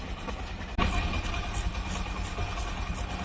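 A motorcycle engine idles steadily at close range during home chain cleaning and lubing, a constant low rumble that jumps louder partway through and then holds at that level.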